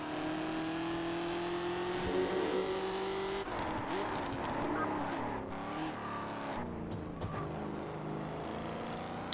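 A car engine revving in the racing video game Test Drive Unlimited, a sustained rising engine tone that shifts pitch through gear changes, with tyre skids and passing-car sounds, loud and continuous.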